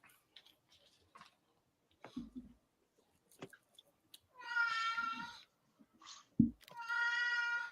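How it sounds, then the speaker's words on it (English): A 17-year-old cat meows twice, close and fairly loud, with sparse quiet clicks and rustles between the two calls. "That's the cat."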